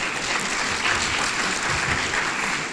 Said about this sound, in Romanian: V-ați gândit vreodată că o să primiți aplauze pentru așa ceva?